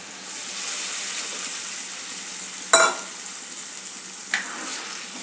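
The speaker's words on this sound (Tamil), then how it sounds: "இப்போ புளி தண்ணி சேர்த்துடலாம்." Tamarind water goes into a hot pan of vatha kulambu, setting off a steady, bright sizzle that runs throughout, with two sharp splashy bursts as the liquid hits the oil; no one speaks.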